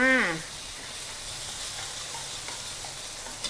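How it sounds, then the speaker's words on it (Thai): Chili and garlic stir-fry in hot lard over medium heat, a steady hissing sizzle heard close after a short voice at the start, with faint stirring scrapes. "น้ำมันร้อน ใส่พริกกับกระเทียมค่ะ ผัดเลยจ้า"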